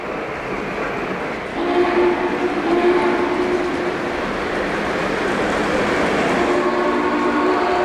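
A recorded Big Boy steam locomotive quill whistle sounds as a long, steady multi-tone blast over a rumbling model railway background, continuing throughout.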